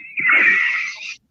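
A human voice imitates a cricket's screaming, out-of-breath cry: one raspy, wheezing squeal held for about a second, close and fairly loud.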